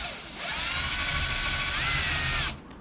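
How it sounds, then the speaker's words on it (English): A power drill runs at a steady high whine while boring into metal for a rockhounding scoop, starting abruptly, holding for about two seconds, then cutting off, close and loud. "You want to angle your drill so it's as straight as possible."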